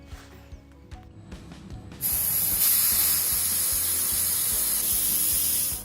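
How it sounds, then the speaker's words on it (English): Steady, loud hiss of an airbrush spraying colored cocoa butter into chocolate Easter egg molds, beginning abruptly after a couple of seconds of light mechanical clicking and continuing unbroken to the end. "I spray both molds totally the same way."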